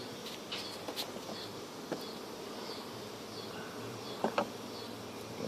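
Honeybees buzz steadily around an open hive while frames are lifted during an inspection, a close continuous drone with a few faint clicks and knocks from handling.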